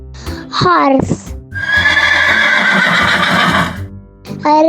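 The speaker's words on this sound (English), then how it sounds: "horse," Horse neighing among domestic farm animal sounds: a loud, long whinny with a shaky, trembling pitch, with shorter snorting calls before and after it, heard close and alone.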